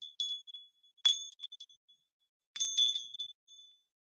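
A vintage Christmas bell topped with a pine cone, about ten inches tall, rings in a few short bright dings, spaced apart with quiet gaps between, clear and close in a quiet room.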